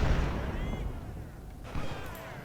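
Distant booms of artillery fire roll in the Civil War strategy game Ultimate General: Civil War, a low rumbling bombardment that fades and swells.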